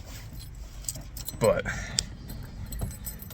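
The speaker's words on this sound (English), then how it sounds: "I don't even know where I put the keys." Car keys for an Acura Integra parts car jangle in a brief metallic burst near the middle, close and clear, with someone speaking briefly around it.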